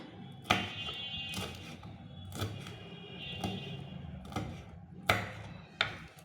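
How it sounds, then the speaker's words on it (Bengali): Sharp knife strikes on a cutting board while green chilli is finely chopped for a chickpea salad, with about eight distinct chops spaced irregularly, close and clear over low room hum. "একদম মিহি করে কাঁচা লঙ্কাটা কেটে নিতে হবে"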